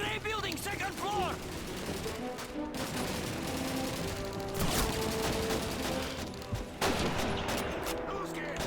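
MG-42 machine gun fire in the Call of Duty 2 video game, a dense continuous battlefield clatter of rapid bursts mixed with other gunshots, heard fairly faint throughout with brief louder cracks.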